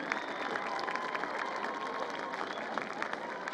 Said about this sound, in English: Let's have another round of applause for the William Blount Governor Band.